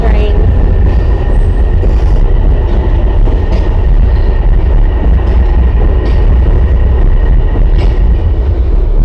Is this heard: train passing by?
yes